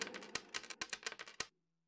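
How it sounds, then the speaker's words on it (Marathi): Coins counted out in an animated folk tale: a quick run of about a dozen bright metallic clinks that stops abruptly into silence. "त्याच भांड्याने त्यांनी नाणी मोजायला सुरुवात केली."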